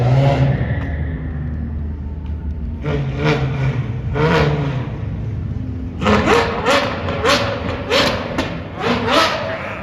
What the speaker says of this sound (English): Listen to that Ferrari.